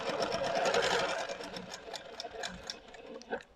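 An Amara or Infinity sewing machine runs in a steady, close whirring stitch that slows and trails off into a few soft clicks near the end.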